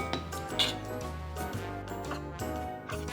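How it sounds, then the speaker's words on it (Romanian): Quartered tomatoes drop into a bowl in a home kitchen, giving a series of light clinks and soft knocks against the dish at close range, with no talking. "Le tăiem în 4 și le punem într-un bol"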